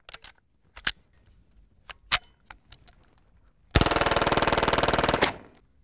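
Guns fire in the Nevada desert: a string of sharp, scattered single shots near and far, then a loud, rapid automatic burst lasting about a second and a half before stopping.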